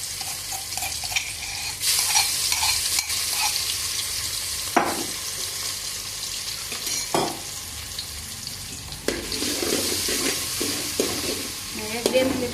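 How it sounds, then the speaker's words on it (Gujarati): Masala spices with red chilli sizzle steadily over a low flame while being stirred in a pan for Girnari khichdi, a continuous frying hiss broken by occasional scrapes and knocks of the spoon. "સરસ સડી જાય ત્યાં સુધી આપણે ધીમો ધીમો હલાવતું રહેવાનું છે."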